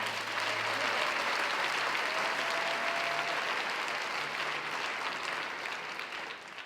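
A church congregation applauds in a broad, sustained wash of clapping that holds steady for several seconds before easing slightly at the end, with no speech over it.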